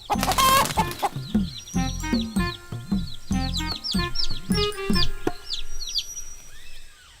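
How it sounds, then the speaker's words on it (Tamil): Hens on a chicken farm in a Tamil fox-and-hen children's cartoon cluck in rapid, overlapping bursts, loud and near, with sharper chirps and a crow-like call rising over them. "இங்க ஒரு கோழி பண்ணையே இருக்குது."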